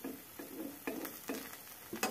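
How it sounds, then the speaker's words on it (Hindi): Oil spooned around the sides of a semolina breakfast snack frying in a kadhai, giving soft, quiet sizzles with a few separate spoon clicks and scrapes spaced across the moment. "चारों साइड तेल को अच्छे से डाल देंगे।"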